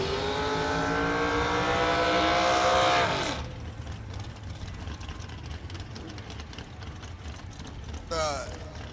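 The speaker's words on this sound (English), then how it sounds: "It's gonna bring up our little blue S10 pickup truck and a Driscoll nitrous fed dragster over here on the Summit side of the racetrack." At a drag strip, a blue S10 pickup truck and a nitrous-fed dragster roar at full throttle, a loud rising engine howl that cuts off near three seconds, then a harsh rumbling idle with another brief rev near the end.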